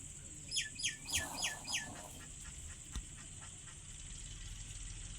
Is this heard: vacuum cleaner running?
no